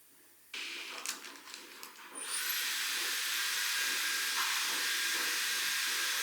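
A steady, loud broadband rush of air from a hair dryer starts after a few light clicks and handling noises, then blows continuously without pause.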